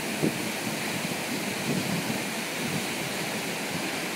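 Water sprays and rushes steadily at Smolarski waterfall, a dense, even hiss close to the microphone with some wind buffeting and no pauses.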